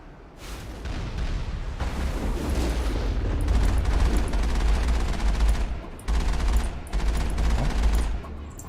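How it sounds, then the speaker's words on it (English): Rocket fire and blasts in the Mass Effect 1 video game: dense, continuous barrage of booming explosions and gunfire-like bursts, loud and sustained throughout with a brief dip near the end. "Whoa, rockets. Ooh, one hit."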